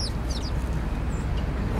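Outdoor fowl being fed cluck and chirp in short, high calls over a dense, steady background rumble, close and moderately loud throughout.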